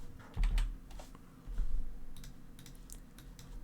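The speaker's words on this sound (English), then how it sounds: "I'm sorry about the clicking and the keyboard and everything" A computer keyboard clatters with bursts of typing keystrokes and clicks, some heavier thumps among lighter taps, close by and quiet, with no talking.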